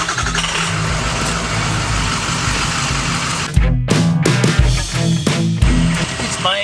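Ford F550 tow truck engine cranking and catching, a steady loud idle followed by irregular bursts and revving, close by with no talk.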